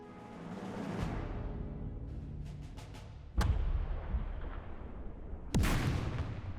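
A German Pak 38 anti-tank gun fires on Valentine tanks in a video game, two loud sharp booms several seconds apart, each trailing off over a rumbling battlefield background.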